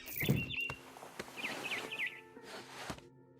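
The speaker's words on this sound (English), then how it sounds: "Then I heard chirping outside my window. It was a barn swallow going back to her nest." Thin, high chirps of a barn swallow in the video game What Remains of Edith Finch, several quick upward-sweeping calls in a short burst, over soft ambient rustle and a few light thumps, fairly quiet.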